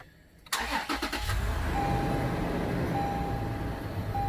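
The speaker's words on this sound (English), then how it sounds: "Go ahead and start it." A Toyota 4Runner engine starting: a sharp burst of starter cranking catches, then settles into a steady, close, rumbling idle with no talk.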